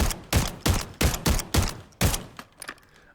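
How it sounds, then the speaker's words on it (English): Origin 12 shotgun in Call of Duty Modern Warfare III firing 12 gauge shells, six loud close blasts in a quick, fairly even rhythm, each with a short decaying tail, followed by a couple of fainter clicks and mechanical handling sounds. "Jump over to our Origin 12. This big boy shotgun. Firing 12 gauge shells here."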